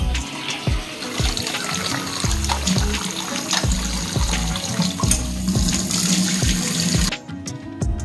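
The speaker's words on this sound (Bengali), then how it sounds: "বুটের ডালটা ভালো করে ধুয়ে নিচ্ছি।" Chana dal is washed under a running kitchen tap: a steady, close gush of water into the sink with rhythmic sloshing and splashing pulses as the lentils are rinsed by hand, stopping abruptly near the end.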